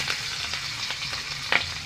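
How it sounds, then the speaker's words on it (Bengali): A fish head fries in hot mustard oil in a home kitchen, with a soft steady sizzle and crackle that is broken by a few brief spattering pops, one sharper burst near the end. "গরম হয়ে গেছে, মাছের মাথাটা দিয়ে দেব।"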